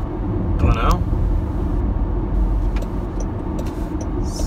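A Jaguar I-Pace electric car drives along, its steady low road and tyre rumble filling the cabin while someone talks over it.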